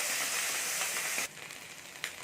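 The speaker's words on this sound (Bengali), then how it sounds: "এটাকে আমি একটু ভাজিয়ে দেবো" Ginger and green chili fry in hot oil in a pan with a loud, dense sizzling hiss that drops suddenly to a quieter crackle, followed by one brief flare-up.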